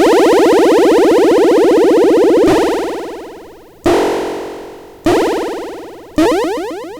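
Pitched synth drum from the AKEMIE'S TAIKO instrument, its start-to-end pitch sweeps looping rapidly, then a series of hits with long release tails that fade out before the next strike, electronic and unaccompanied.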